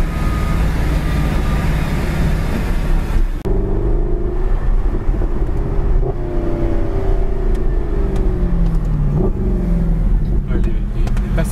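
A Mercedes SLS AMG engine roars and climbs in pitch, with quick gear shifts cutting in repeatedly as it accelerates hard, loud and sustained.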